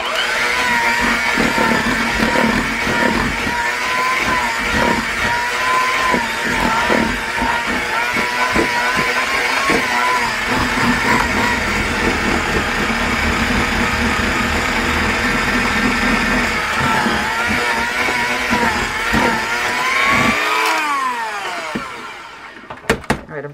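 An electric mixer whirs loudly and steadily, blending bath bomb ingredients with citric acid for orange tangerine bath bombs, running nonstop for about twenty seconds before winding down and cutting off near the end.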